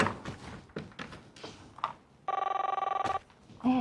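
A telephone rings once in a short electronic burst of about a second, coming after some thumps and taps and followed by another brief sound.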